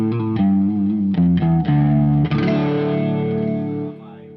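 Electric guitar played through reverb and chorus effects, with sustained distorted chords and a few quick strums before a long ringing chord that fades out, loud and alone.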